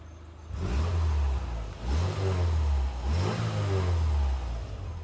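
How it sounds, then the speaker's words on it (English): A Subaru engine revs up three times in a row, each throaty rise and fall close by, with a steady idle between. "Let me rev on it a little bit so you can hear it"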